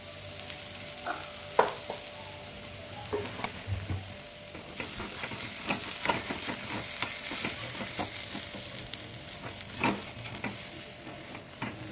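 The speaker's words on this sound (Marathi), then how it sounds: "स्मॅश केलेला बटाटा टाकून व्यवस्थित हलवून घ्यायचं आहे।" Mashed potato being stirred into ragda in a pan, a steady scraping and stirring with soft sizzling underneath, punctuated by occasional louder clacks of the spoon against the pan, close and continuous with no talking.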